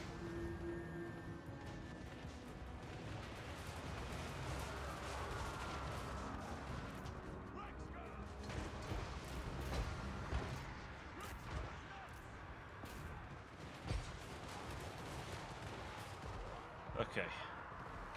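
Gunners keep up steady fire in a Warhammer battle, a dense clatter of shots and booms running throughout with a few sharper cracks near the end, while someone talks over the din.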